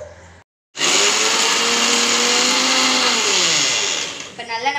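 A mixer grinder blends kulfi ingredients in a loud, steady whir that starts after a brief pause, holds its pitch for several seconds and then winds down.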